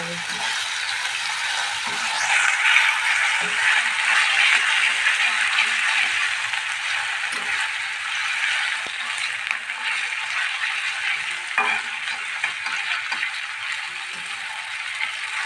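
Carrots, potatoes and onions fry in a pan with a steady broadband sizzle, punctuated by occasional scraping stirs and faint background voices.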